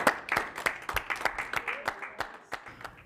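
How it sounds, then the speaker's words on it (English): A round of applause from a meeting audience for a road-safety working group, sparse, separate claps rising and falling over a few seconds, fairly close. "So I think you ought to give yourselves a round of applause."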